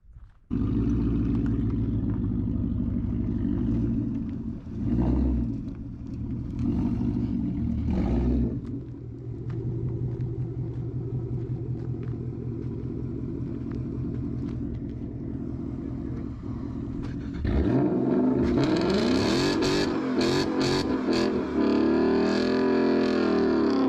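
Supercharged Ford Mustang Mach 1 engine heard from inside while driving: a steady low rumble that dips briefly, then rises into a louder, harsher rev near the end, close and sustained with no talking.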